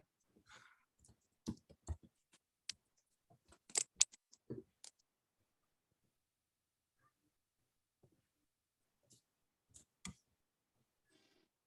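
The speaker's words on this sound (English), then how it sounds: "So I'm just typing my email" Keys clicking on a keyboard while an email is typed, in scattered quick bursts of sharp taps with long quiet gaps between, close and fairly soft.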